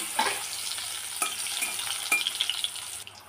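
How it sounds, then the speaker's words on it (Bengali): Pointed gourd fries in a pan with a continuous close sizzle, broken by a few sharp utensil clinks and stirring scrapes over about three seconds. "আলুটা তুলে নিলাম, পটলটা ভাজা বসিয়ে দিলাম।"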